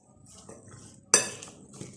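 Red kidney bean salad mixed in a bowl with a utensil, quiet soft shuffling with one sharp metallic clink of spoon against the bowl partway through.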